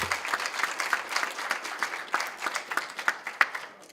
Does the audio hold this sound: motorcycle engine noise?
no